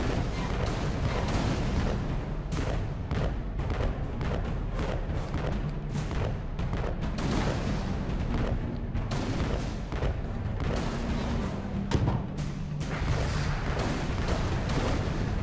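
Cannon fire in the video game Alice: Madness Returns, a dense rapid barrage of booming shots repeating steadily throughout, loud and continuous with no talking.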